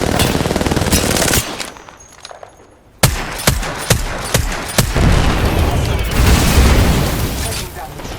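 Loud rapid bursts of automatic gunfire from the Apex Legends video game, with sharp single shots and booms after a short lull, close and intense, with game voice lines heard in places.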